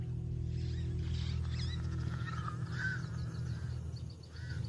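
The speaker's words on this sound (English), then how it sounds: "Pied crows mob her." Pied crows mobbing a caracal in the Namibian desert, giving faint, harsh calls and caws off in the distance over a steady low background rumble.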